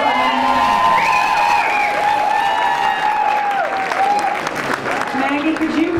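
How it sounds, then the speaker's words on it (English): An awards-event audience claps steadily in a sustained round of applause, loud and continuous, while a voice carries on speaking over it. "Please, a round of applause."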